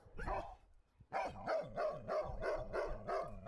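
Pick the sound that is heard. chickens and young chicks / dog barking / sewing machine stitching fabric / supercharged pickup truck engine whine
dog barking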